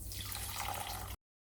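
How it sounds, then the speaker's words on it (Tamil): Water poured onto brown sugar in a pan to make syrup for sweet boondi, a brief steady splashing pour lasting about a second before cutting off, fairly quiet. "சீனி கரைய 3/4 கப்பில் இருந்து 1 கப் அளவு தண்ணி சேர்த்துக்கலாம்."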